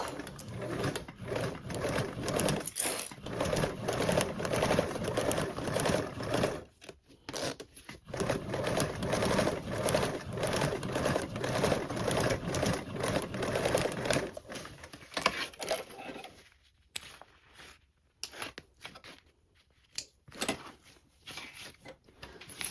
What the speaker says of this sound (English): top stitch along that joined seam with a 1/8